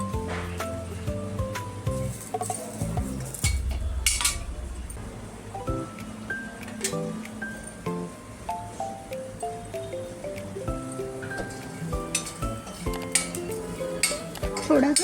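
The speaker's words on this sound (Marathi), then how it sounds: "आता आपण लसूण गरम करून घेऊया" A utensil stirs and scrapes garlic in a metal pan, with steady rhythmic clinks and scraping strokes for cooking karale chutney, and a faint sizzle underneath throughout.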